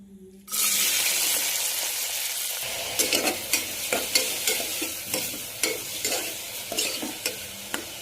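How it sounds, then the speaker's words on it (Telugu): Onions hit hot oil in a pressure cooker for mutton curry, giving a loud, steady sizzle and frying hiss, with repeated short clinks and scrapes of a stirring spoon against the pot. "సో కొంచెం ఆయిల్ వేసి ఉల్లిపాయలు వేస్తాను"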